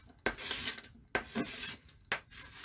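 Paint scraped off a palette in three rasping strokes, each starting with a sharp scrape and trailing off into a drier rub, close and fairly quiet with no one talking.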